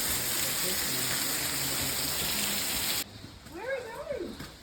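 Waterfall along a walking track in the Blue Mountains, a steady close rush of falling water that cuts off abruptly partway through, followed by a brief rising and falling tonal sound in the quieter remainder.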